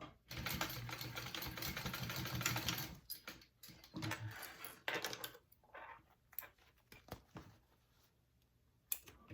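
A sewing machine basting a seam on a convertible bag, a fast continuous stitching run at first, then shorter stop-start bursts and clicks, fairly quiet and close.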